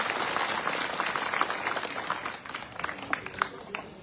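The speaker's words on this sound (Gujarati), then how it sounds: "કાજલબેન નું જોરદાર તાળીઓથી સ્વાગત કરો" Applause from an audience at a farmers' protest meeting in Khijadiya village, Kalavad taluka, welcoming a woman named Kajalben; steady crowd clapping with scattered sharper claps, fading slightly toward the end.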